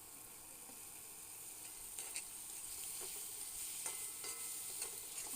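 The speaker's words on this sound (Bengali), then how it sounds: "এবারে আমি একটু নাড়াচাড়া নিয়ে নিব যেন মশলাগুলো ঠিকমতো ঢুকে মরিচ পেঁয়াজের ভিতরে।" Spices with chili, onion and turmeric powder being stirred in a frying pan: faint continuous sizzle under a series of scraping spatula strokes, no voices.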